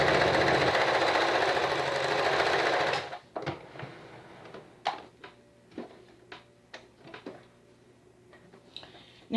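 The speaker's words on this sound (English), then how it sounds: "neat little sewing machine. It sews real good." A Brother XL 3010 free-arm sewing machine runs in a fast, steady whir for about three seconds, then stops, leaving a series of scattered mechanical clicks and taps.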